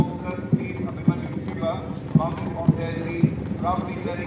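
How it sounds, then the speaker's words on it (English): Hooves of four horses clip-clop at an NCC rally parade, with sharp, evenly spaced thuds about every half second under a steady announcer's voice and crowd murmur. "following Under Officer Dharamveer are 4 horses with their flag bearers"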